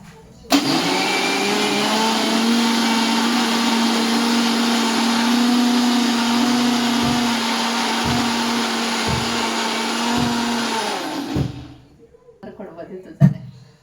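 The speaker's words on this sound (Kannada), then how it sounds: "ಇವಾಗ ಮಿಕ್ಸಿ ಆನ್ ಮಾಡ್ತಾ ಇದ್ದೀನಿ." A mixer grinder whirs loudly and steadily for about eleven seconds with a droning hum and periodic knocks, then winds down into faint clatter.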